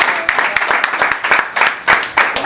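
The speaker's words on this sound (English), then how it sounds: "Give him a round of applause." A crowd claps in an irregular patter of applause, sharp hand claps overlapping with murmuring voices.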